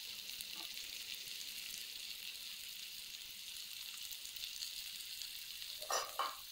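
Chopped tomatoes sauté with salt for a Tamil-style egg curry, giving a faint, steady sizzle, with a brief stirring scrape near the end.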